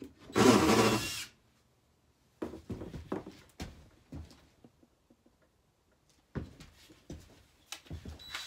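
A DeWalt power drill with a 1/8 inch bit whirs loudly in one sustained burst, followed by a few shorter, quieter bursts of drilling and handling noise with pauses between.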